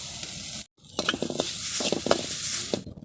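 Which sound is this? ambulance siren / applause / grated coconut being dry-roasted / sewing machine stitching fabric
grated coconut being dry-roasted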